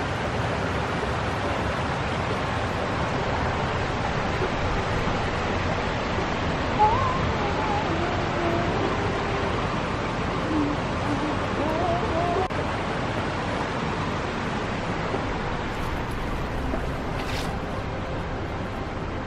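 Small trickling waterfall in Colorado backcountry, a steady broad wash of falling water heard up close and continuous, with a few faint incidental sounds over it.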